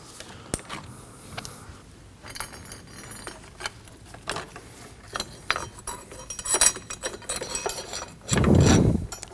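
A ratchet clicks in short, sparse bursts while snugging down the negative battery terminal on a 2003-2006 Subaru Baja 2.5L H4, with metal clinks and a louder rattling burst near the end, nearby and without talk.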